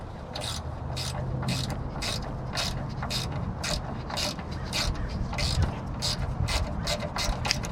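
Ratchet wrench clicking in rapid, steady bursts as bolts come off a Cadillac DeVille transmission brace, close and continuous over a low mechanical hum, with no talking.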